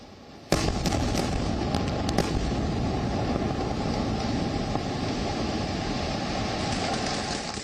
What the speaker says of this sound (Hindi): धमाकों की जोरदार आवाजें